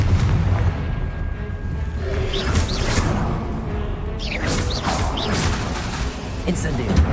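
Booming blasts from the Confringo blasting spell in Hogwarts Legacy, several explosive bursts with whooshes over a rumbling game backdrop, with voices talking in the game.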